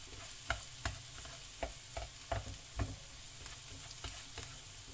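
Corned beef with potatoes and carrots sautéing in a pan, a steady sizzle broken by repeated scraping stirs at an uneven rhythm, close and fairly quiet, no talking.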